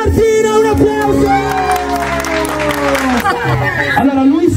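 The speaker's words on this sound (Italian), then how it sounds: "È la nostra Martina, un applauso!" Party guests at a birthday pool party clap and cheer loudly for a girl, whoops and shouts mixed into dense crowd noise, with voices talking through it.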